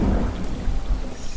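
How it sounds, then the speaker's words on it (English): Heavy simulated rain pours through a gecko terrarium during an artificial tropical storm, with a dense, continuous downpour and a deep rumble of thunder underneath, loud and close. "The tank has these tropical storms 5 times a day. The heavy rain brings out the geckos"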